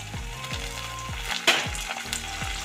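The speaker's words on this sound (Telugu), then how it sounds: "కరేపాకు వేసుకుందాం కలిపిద్దాం అలాగే కొత్తిమీర కూడా వేసుకున్నాం" A frying curry sizzles steadily as curry leaves and coriander are stirred in, with a regular rhythm of spoon scrapes against the pan and one sharper clink midway.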